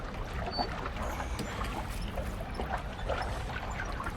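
Oars splash and water sloshes steadily around a lifeboat being rowed near a listing ship in a Titanic VR game, a continuous close watery wash with soft pouring and trickling textures and no voices.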